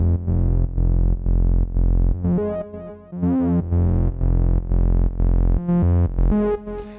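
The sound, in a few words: synth bass with added distortion, Multiphonics CV-1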